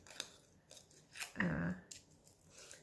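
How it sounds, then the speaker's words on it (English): Scissors cutting out a paper flower for a journal made from an old book cover, a few close snips and a longer crunchy cut, with no talking. "We'll cut out a flower real quick here."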